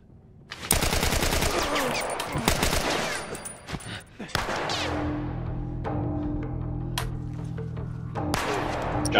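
Gunfire in The Last of Us video game: loud rapid bursts of shots in quick succession, then a pause and more scattered shots over a low droning game background.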